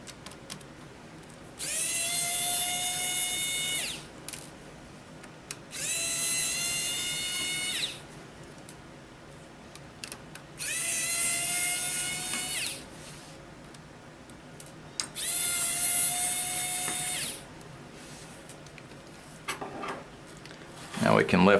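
A power screwdriver whirs in four separate bursts, each about two to three seconds long, backing out the silver screws holding the screen of a Lenovo N22 Chromebook, with quiet pauses and small clicks between them.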